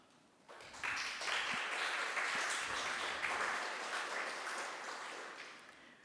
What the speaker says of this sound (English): I would just like to ask you for a round of applause for the efforts of supporters, partners, and publishers